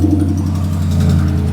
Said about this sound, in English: now I want to turn on the vehicle